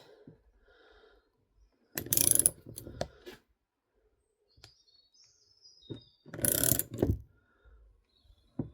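A torque wrench tightens a nut made from JB Weld, the thread stripping under load: two separate bursts of ratcheting clicks a few seconds apart, each short and fairly close, with quiet gaps and faint mechanical noise around them.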